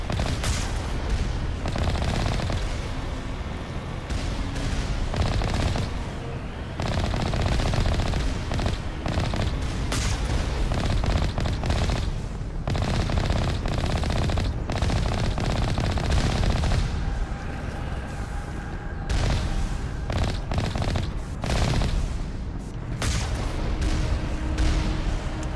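Sustained automatic gunfire from a turret in Mass Effect: Legendary Edition, loud rapid bursts with dense crackling and booms running almost continuously, briefly easing a few times.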